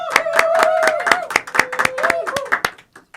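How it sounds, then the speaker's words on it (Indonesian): An audience at a scholarship talk claps along in a rhythmic beat of about a dozen sharp, close claps, with a sustained voice-like tone running under them before the clapping stops. "Tepuk tangan dulu yuk."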